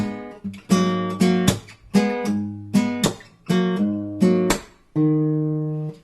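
Slapped guitar notes in a punchy rhythmic run, ending on a sustained lower G after a slide, played alone without talking.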